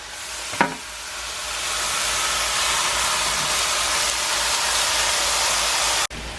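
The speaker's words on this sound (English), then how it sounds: "I barely put my meat on my pan" Ground beef frying in a pre-warmed pan with no oil, a steady loud sizzle that swells after one thud at the start and runs on unbroken before cutting off abruptly.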